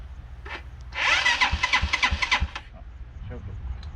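An old, cheap motorcycle engine that sat unused for ten years cranks in a burst of rapid, rhythmic chugging pulses before cutting out, with voices talking nearby.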